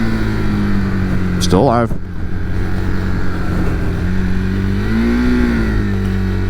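A motorcycle engine hums steadily while riding, with a quick sharp throttle blip that rises and drops in pitch for rev matching during a downshift; someone speaks briefly over it.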